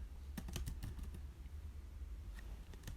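Keys clatter on a computer keyboard during a MySQL database tutorial, a quick burst of close, crisp keystrokes, then a pause and a few more taps over a low background hum.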